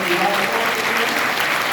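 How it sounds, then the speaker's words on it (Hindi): An audience at a science outreach program applauds students with a loud, even, continuous clapping that holds steady throughout, faint voices beneath. "और एक बार जोरदार तालियां हमारे इन छात्रों के लिए"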